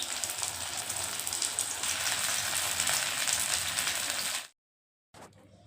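Filled pastries deep-frying in hot oil, a dense steady sizzle and crackle for over four seconds before it cuts off abruptly, followed by a short quieter stretch of room noise.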